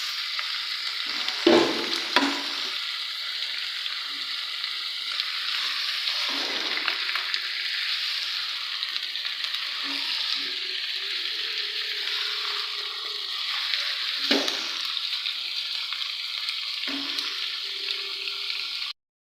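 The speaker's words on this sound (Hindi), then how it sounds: "चिकन डालने लगी हूँ।" Chicken pieces frying in a pan for homemade chicken dum biryani, with a steady loud sizzle throughout, broken by several stirring and scraping bursts.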